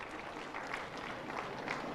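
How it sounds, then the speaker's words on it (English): Steady applause from a crowd at a national prize-giving ceremony, a dense wash of clapping hands that holds at an even level throughout. "A big round of applause, please."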